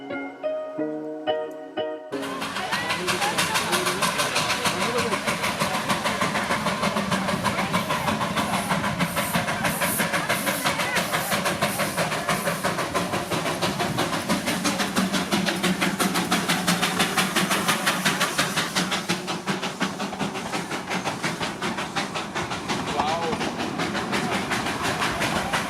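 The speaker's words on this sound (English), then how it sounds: "The Darjeeling Himalayan Railway started in 1881 and is also called the Toy Train." Darjeeling Himalayan Railway toy train, the narrow-gauge line opened in 1881, running steadily at close range with a continuous rattling, clattering rumble and hiss that holds loud for most of the stretch after a brief quieter start.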